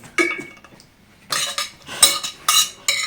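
Chopped onion added to a beet and mayonnaise salad in a dish, with several bright clinks and scrapes of a utensil against the bowl in bursts, close and fairly loud, with no talking.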